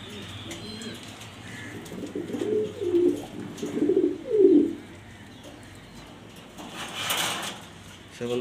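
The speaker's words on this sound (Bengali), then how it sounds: "এটা নর কবুতর" A male pigeon coos nearby in a few low, throaty bursts, each a soft rolling call, with quiet room noise and a brief rustle between them.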